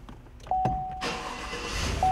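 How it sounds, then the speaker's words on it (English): A Chevrolet Tahoe comes to life with its push button start: a few soft clicks and a steady electronic tone, then the engine catches and settles into a broad idle rumble. The sound is close, with no speech. "Let's start it up."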